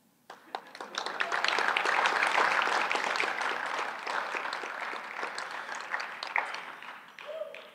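An awards-event audience breaks into applause after a school-district backpack campaign is mentioned. The clapping swells quickly, holds full and steady for several seconds, then thins out, and a speaker's voice returns at the end.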